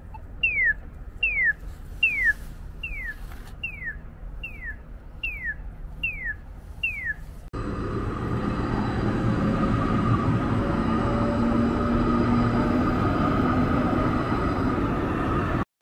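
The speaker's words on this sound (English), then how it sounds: "traffic lights with loud audible signals to inform pedestrians that a train is coming" A train station's pedestrian crossing signal chirps in a steady series of descending electronic tones, then a train's low rumble rolls in and continues steadily.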